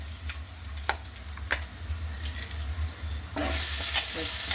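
Chilli, curry leaves and garlic-ginger paste sauté in hot oil for dosa masala, with soft sizzling and occasional scraping stirs, then a louder, fuller sizzle surges in near the end as more goes into the pan.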